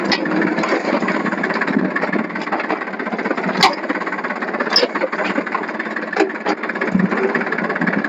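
A tractor engine chugs steadily up close while furrowing a groundnut field, rattling and vibrating, with occasional sharp clanks.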